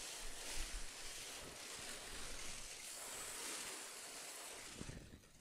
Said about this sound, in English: set it to the shower feature, and just give the underside of the hood a quick spray